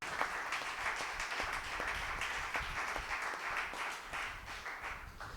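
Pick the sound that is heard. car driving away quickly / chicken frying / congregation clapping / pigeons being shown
congregation clapping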